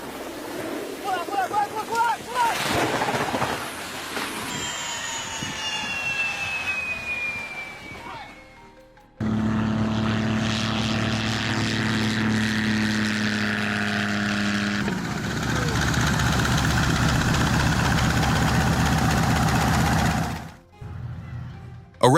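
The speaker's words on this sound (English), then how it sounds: "Helicopters failed landing in Fiji as a reminder" A helicopter engine roars loud and steady through a failed landing in Fiji, its droning rotor hum thick with gusty wind buffeting close by until it cuts off abruptly near the end.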